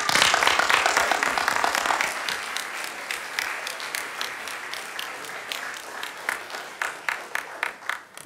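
Applause at an election debate at the Cégep de Sherbrooke: a full burst of clapping that gradually thins to scattered individual claps over several seconds.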